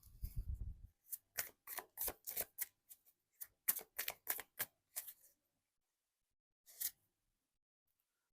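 Tarot cards being shuffled and drawn, a rapid run of crisp riffling snaps and slaps close by, then a pause and one final card flick, with no talking.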